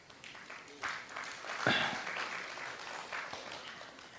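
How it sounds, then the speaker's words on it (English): A few audience members clap at a live Sadhguru event in Riyadh, a brief scattered burst of applause rising near the middle over a murmuring hall, fairly distant and soft. "See, some wives are clapping"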